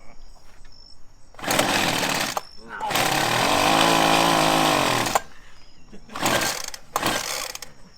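A party two-stroke engine blender motor runs in loud, harsh bursts, one long steady stretch and several shorter revs with brief stops between, while people talk nearby.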